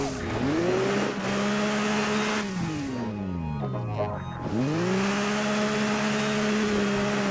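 A racing-style car engine in the Overpass off-road video game revs and falls repeatedly while the vehicle crawls over obstacles, loud and close, with pitch sweeping up and down between throttle bursts.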